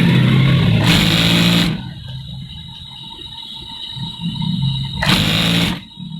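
A sewing machine stitches a baby boy's kurta in two short bursts of fast whirring stitching, close and moderately loud, separated by quieter handling of the fabric.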